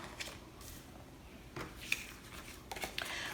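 Monster cards turned over one at a time in a board game, heard as faint, quick paper flicks and light taps on a table, close by and quiet, with no talking.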